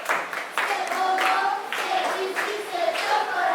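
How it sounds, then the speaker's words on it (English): A class of children at a school claps for a classmate, a burst of uneven hand claps that fades and rises again, with a teacher's voice talking over parts of it. "Clap for Norani."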